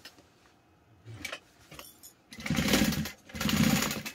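A sewing machine stitching fabric, two loud sustained runs of rapid mechanical whirring after some quiet handling clicks.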